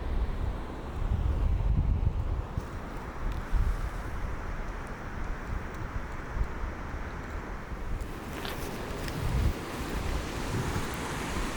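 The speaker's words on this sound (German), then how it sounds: "Das ist der Wasserfall." Rushing, roaring water at a waterfall on an off-road trip in Mongolia, a steady broadband wash with wind buffeting the microphone, loud and continuous throughout.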